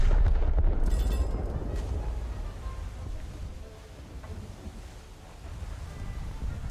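A shell striking a turret of the French battleship Strasbourg, which carries all-forward quad turrets, in a naval video game: a heavy, close boom opens into a long, low rumbling roar that slowly fades and swells.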